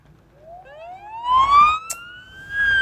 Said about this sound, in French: On active la sirène.